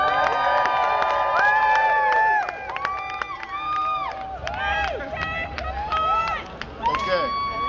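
A crowd at a 4/20 costume contest in Victoria cheers loudly, a sustained roar of whoops, shouts and high yells that swells and fades slightly over several seconds.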